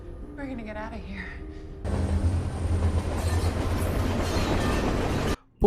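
A train from the Resident Evil film set in Raccoon City rumbles loudly and steadily for several seconds after a voice speaks, then cuts out abruptly near the end.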